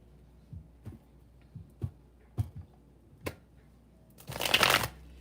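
Tarot cards shuffled by hand: a few soft, separate riffles and taps, then a brief, denser burst of fluttering cards at the end, close and quiet in a calm room.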